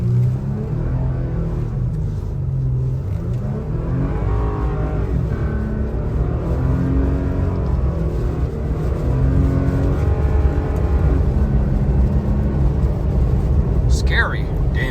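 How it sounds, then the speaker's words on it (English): A 2020 Toyota Tacoma TRD Off-Road with KO2 tires and a 2-inch lift accelerates from zero to 60 in a snowstorm with traction and stability control off, its engine droning loudly up through rising pitch sweeps and gear changes, heard close from inside. "Zero to 60 in the snow, traction fully off, stability off, everything off."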